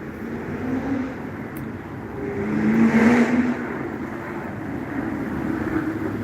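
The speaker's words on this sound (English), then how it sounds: "The loud car farted, huh?" A car engine roars past, swelling to a loud peak midway and then fading back into steady road rumble.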